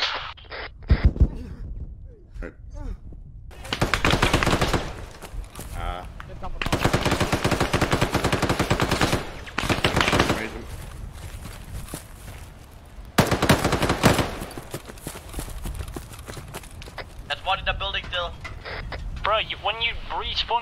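Bursts of automatic rifle fire rattle through an Arma 3 mission in a STALKER-themed co-op game, with several long, loud, close volleys separated by short pauses and some sparser shots near the end.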